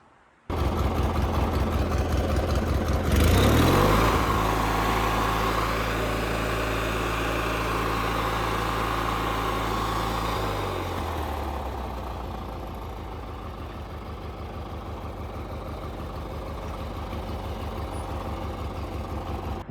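A racing lawn mower runs flat out in top gear during a speed test, its engine revving up sharply after a few seconds into a loud, steady drone that eases off later and settles to a lower hum, with no talking.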